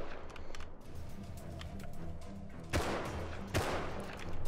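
Bursts of gunfire from the survival game Rust, with a couple of sharp, loud shots standing out near the end over a steady din of rapid firing.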